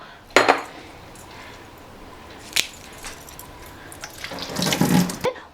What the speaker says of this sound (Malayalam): പിന്നെ ഇതിലേക്ക് വെള്ളം ചേർത്ത് കൊടുക്കുക